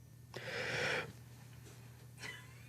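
A loud, rasping breath close to the microphone, followed after a pause by a second, shorter breath; no talking.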